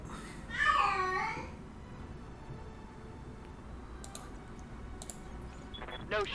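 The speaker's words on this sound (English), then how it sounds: "the cat's looking for my daughter" A pet cat gives one clear, close meow early on, followed by soft computer keyboard and mouse clicks and a brief second meow at the end.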